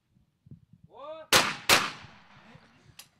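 Two sharp, loud shotgun blasts in quick succession at a double trap clay target event, a European men's championship, each ringing out with a long decaying echo, followed by a fainter distant shot; a brief whistle-like sound comes before them.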